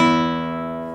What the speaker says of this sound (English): just playing the open E's, thumb and ring finger together